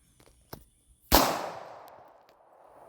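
A single sharp report from a real Glock pistol, loud and close, with a long decaying tail after the crack, preceded by a few faint clicks and handling noises.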